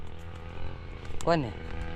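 A grass cutter's engine drones steadily in the background, briefly revving, under someone talking close by.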